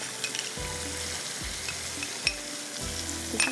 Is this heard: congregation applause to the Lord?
no